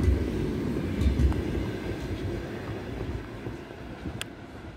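A steady low rumble and rattle from inside a moving Moscow electric commuter train bound for the airport, continuous and fairly loud, with no voices.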